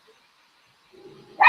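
A deaf and blind pet dog gives a sudden startled bark at the very end, loud and close, after a stretch of near silence with faint low rustling.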